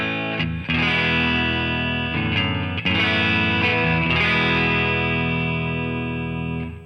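An electric guitar plays through the Fender ToneMaster Pro's 65 Deluxe Reverb preset, strummed chords ringing out loud and sustained with a few quick restrikes, alone with no talking.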